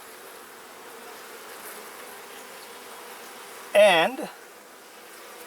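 Honeybees buzz around a hive with a queen back inside, a faint, steady drone that continues alone while a single short spoken word cuts in near the end.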